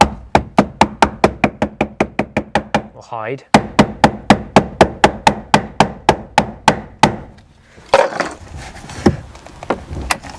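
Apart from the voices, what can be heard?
copper hammer tapping steering wheel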